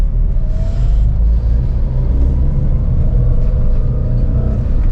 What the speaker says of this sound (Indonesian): Oke, kita tes lagi pengereman secara mendadak.